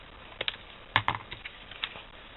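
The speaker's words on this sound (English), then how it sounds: "what I'm going to do is cut into it and create like little nicks in the card" Scissors cut small nicks into a greeting card, making a handful of quiet, crisp snips in quick irregular bursts, close up.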